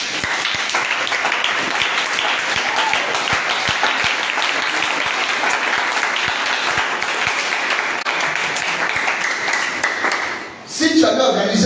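A church congregation applauds steadily for about ten seconds, a dense and fairly loud mass of clapping that fades near the end before a brief burst of voices.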